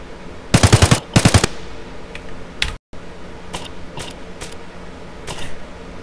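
An unsuppressed AK-74 rifle in the video game Escape from Tarkov fires two short, loud automatic bursts in quick succession, followed by a few faint mechanical clicks and handling noises.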